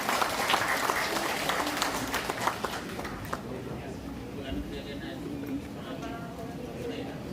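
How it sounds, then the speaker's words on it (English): An audience at a microcredit launch event applauds as the Dean of an Islamic studies institute is welcomed, clapping strong at first and then thinning out under murmuring voices and movement. "let us give a round of applause to the Dean of the University of the Philippines Institute of Islamic Studies, Professor Julakipli Wadi."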